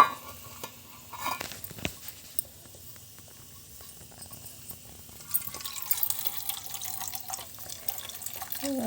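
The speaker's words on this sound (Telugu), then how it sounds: "దీంట్లో మనం కొన్ని వాటర్ పట్టేసుకుందాం" Tap water runs into a box holding salt-washed mint leaves, a thin trickling and splashing stream with small clinks, fairly quiet and close, growing fuller toward the end.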